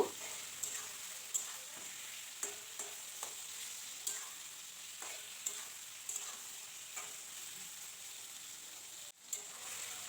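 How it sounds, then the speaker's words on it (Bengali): Chicken and chopped onion fry in a pan with a soft, continuous sizzle, punctuated by regular scraping knocks from stirring throughout. "পেঁয়াজ কুচিটা দিয়েও আমি বেশ কিছুক্ষণ নাড়াচাড়া করে নেব"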